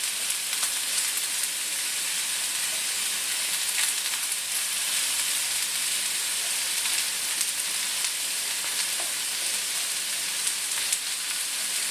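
Courgettes laid in a single layer in a pan sizzle with a steady, soft hiss, even and continuous throughout with occasional faint crackles and no talk.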